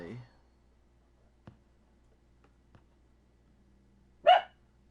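A dog gives one short, sharp bark late on after a brief voice at the start, with faint clicks scattered through an otherwise quiet room.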